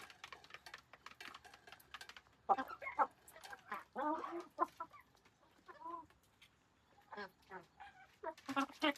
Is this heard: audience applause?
no